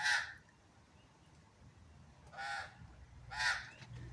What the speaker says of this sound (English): Bloody magpie